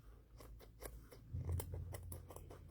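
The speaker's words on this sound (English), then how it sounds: "I could have used a sharper pair of little scissors" Repeated crisp snips of small scissors cutting fabric, several quick cuts in uneven rhythm, close by with a low background hum.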